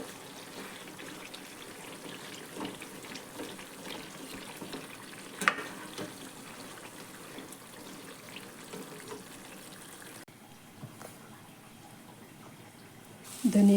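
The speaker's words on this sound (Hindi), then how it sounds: "इधर हमारा प्याज भी अच्छे से फ्राई हो रहा है।" Onions frying in a pan for a Maharashtrian-style onion garlic masala, a quiet, steady low sizzle with faint stirring scrapes and a brief knock midway.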